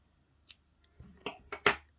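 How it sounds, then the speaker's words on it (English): Scissors snipping through yarn, a few sharp close clicks and crisp cuts, the last ones loudest, against near silence. "And then I'm just going to cut my yarn"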